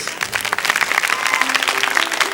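A crowd claps steadily, a dense, lively round of applause that holds at an even volume throughout, with no talking over it.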